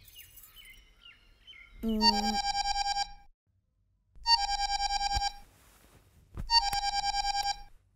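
A phone ringtone plays in three repeated bursts of a bright, warbling electronic melody, separated by short pauses, fairly close and clear.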